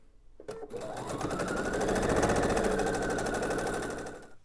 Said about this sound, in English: And you are going to sew the short side of the half triangles.